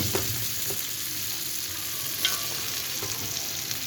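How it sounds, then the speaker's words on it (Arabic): Onions frying in oil for koshari, stirred in a pan: a soft, steady sizzle with a few scattered utensil clicks, quiet and close, no talking. "نقلبه بقى في الزيت ده اهو عشان يبقى ايه طعمه حلو"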